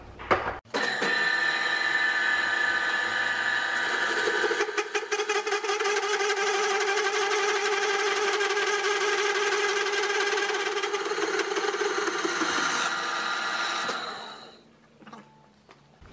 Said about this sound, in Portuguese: Aqui eu tô cortando em 160 RPM.